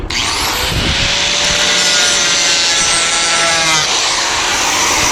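A close, loud rasping scrape as fabric for a bucket hat is trimmed, a continuous gritty rubbing stroke lasting several seconds.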